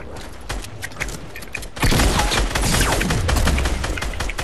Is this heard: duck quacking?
no